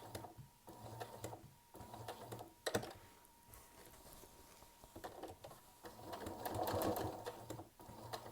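Domestic sewing machine quilting stitches through layered fabric, a steady quiet mechanical whirr with short pauses between runs as the quilter repositions.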